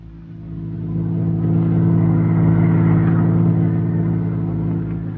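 A car engine in a 1930s radio crime drama rumbles low and steady, swelling as it revs and pulls away, holding loud before easing slightly at the end, with no talk over it.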